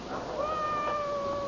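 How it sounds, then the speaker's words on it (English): A cat gives one drawn-out, rising meow that holds steady and fairly loud close by, heard alone in a radio mystery drama. "Dear Mephisto, beautiful cat"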